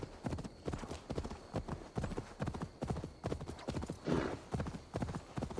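Horse hooves clip-clop in a fast, steady galloping rhythm in a Viking video game, close and even-paced, with a brief whinny-like burst midway.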